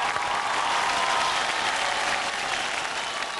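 An awards ceremony audience applauds, a dense, even roar of many hands clapping heard on its own.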